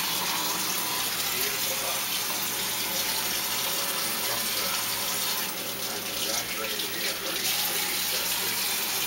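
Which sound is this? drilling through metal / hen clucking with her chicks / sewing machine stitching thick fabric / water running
water running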